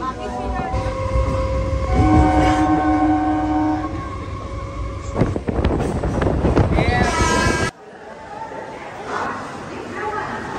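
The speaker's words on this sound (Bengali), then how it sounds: "স্টেশনে আসলাম। এখন ট্রেনে উঠবো।" A train at the railway station in Benapole, a loud rumbling presence with a long horn-like tone and clanks, people talking over it before an abrupt cut to quieter ambience.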